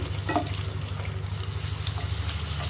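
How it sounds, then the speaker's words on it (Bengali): Luchi flatbread deep-frying in hot oil over medium heat, giving a soft, steady bubbling sizzle that stays even throughout, with no talk. "মিডিয়াম আছে রেখে এভাবে করে লুচিগুলো সব ভেজে নেবেন"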